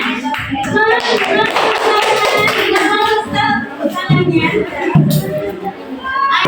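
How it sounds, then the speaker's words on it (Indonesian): A classroom of students clapping hands together, dense and fairly close, with children's voices chattering and calling out over the applause. "Oke, tepuk tangan."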